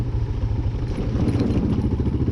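A dual-sport motorcycle rides across beach sand at Nape Nape Beach, New Zealand. Its engine drones loud and close, with a steady low throb and a rattling, uneven texture throughout.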